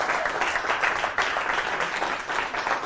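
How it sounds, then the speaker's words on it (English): Audience applause at a magic lecture, steady dense clapping filling the room for a few seconds without a break. "Give him a big round of applause."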